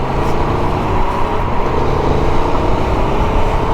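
A 2023 Aprilia Tuono V4 Factory motorcycle with a V4 engine pulls away under acceleration, a loud, steady engine roar with road noise running throughout, no talking.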